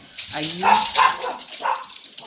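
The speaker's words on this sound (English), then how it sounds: "The mailman just came, so my dog is losing his mind." A house dog barks at the mailman, giving a rapid series of close, sharp barks and yelps that rise and fall over a couple of seconds, with no clear talking.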